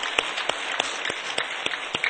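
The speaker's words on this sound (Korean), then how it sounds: "뜨거운 격려 박수로 한 번 더 하겠습니다" Congregation applause during a church service, a short, even burst of hand clapping with scattered sharper claps standing out, heard on its own.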